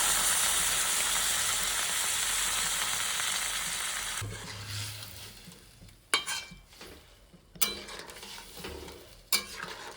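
Water added to a frying pan of egg curry: a loud, steady sizzle and frying hiss fills the first half, then drops to a quieter simmer broken by a few sharp utensil clinks against the pan.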